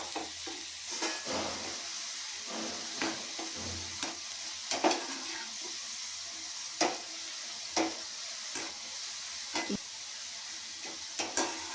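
Okra pieces fry slowly over a medium flame, a steady soft sizzle broken every second or so by the scrape and clack of a spatula stirring in the pan, close and alone with no voices.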